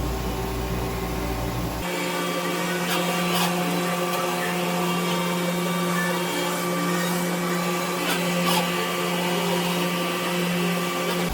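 A CNC machining center probing and aligning a part, with a steady loud mechanical hum and whine starting after a brief shift in tone, punctuated by faint clicks and ticks.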